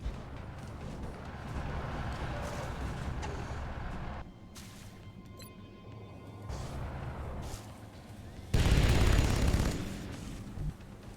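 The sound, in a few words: gunfire from the video game XCOM Long War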